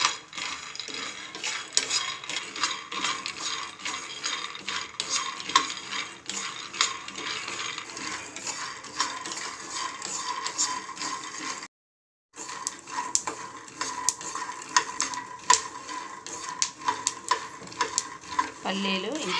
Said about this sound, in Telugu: పల్లీలు వేసుకొని వేయించుకోవాలి.